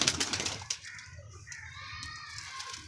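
Pigeon cooing softly up close, with a brief flurry of wingbeats early on, faint and alone.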